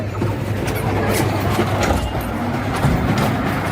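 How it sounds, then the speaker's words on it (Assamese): A train rumbles past nearby at Gandhi Park, North Lakhimpur, with a continuous low roar and rhythmic clacking of wheels over the rails. "এয়া ট্ৰেইন আহিছে, ট্ৰেইন চোৱা।"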